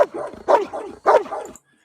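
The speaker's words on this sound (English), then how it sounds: "You hear that woof click, woof click, woof click, woof click. That there are the teeth coming together." A dog barks in three quick bursts, each woof followed by a sharp click of its teeth snapping together, close and fairly loud with short pauses between.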